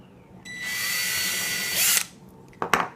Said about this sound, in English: I can use my drill to go ahead and get the pilot holes in the board